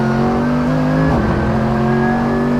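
A Mercedes-AMG GT3 race car at full power on the JunChi circuit, its engine a loud, close, continuous roar with a brief shift in pitch midway before pulling steadily again.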